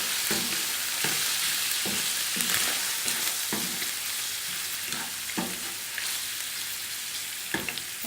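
Chicken tossed with black pepper, red chili powder, salt and chaat masala, stir-fried in a pan: a loud, dense sizzle with repeated scraping strokes of a spatula roughly every second, close up and without speech.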